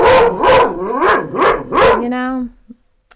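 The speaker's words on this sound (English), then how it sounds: "Barking at the neighbors." A dog barks four times in quick succession, loud and close, then lets out a drawn-out whine before falling silent.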